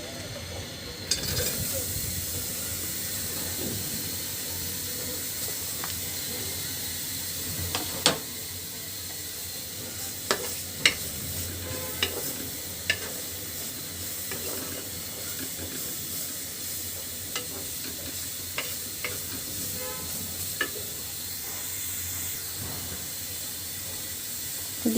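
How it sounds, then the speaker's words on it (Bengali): Chopped onion sizzles in a wok set on a stove while a hilsa fish head and eggplant dish is being cooked, giving a steady close hiss for the whole stretch, broken by a few sharp clicks and clatters. "তো এখন আমি দিয়ে দিচ্ছি এর ভিতরে পেঁয়াজ কুচি,"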